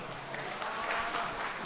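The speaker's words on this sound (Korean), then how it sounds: "박수로 맞아주시기 바랍니다." Wedding guests in a wedding hall in Yesan, South Korea, applaud in a short, even burst of clapping that sounds like a crowd filling the room.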